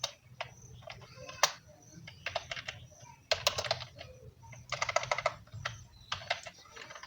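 Python code being typed on a computer keyboard, with quick close clusters of clicky keystrokes in irregular bursts and short pauses, fairly quiet over a low background hum.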